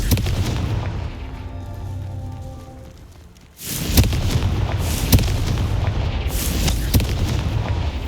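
Confringo fire spell explosions in Hogwarts Legacy on Xbox Series X, a heavy booming blast after a quiet buildup, followed by rumbling impacts and several sharp repeated cracks, loud and close.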